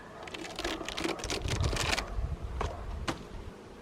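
Honeybees hum in a low, steady drone at close range at an apiary in Kaniv, Ukraine, broken by crackly rustling and sharp clicks as the lower hive body is worked.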